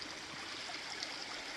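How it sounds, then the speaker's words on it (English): A creek flowing just down the road from a cave, giving a steady, even rush of running water close by with no voices and no breaks in the sound. "see this nice creek right here?"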